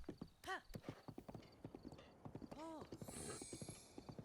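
Horse hooves clip-clop in a quick, steady rhythm while the horse whinnies twice in the video game The Legend of Zelda: Breath of the Wild, with talk running underneath.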